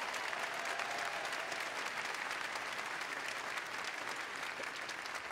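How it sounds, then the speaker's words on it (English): An arena crowd at a university undergraduate commencement breaks into a sustained round of applause, dense and even from start to finish, heard at a moderate distance with no talking. "How about a round of applause?"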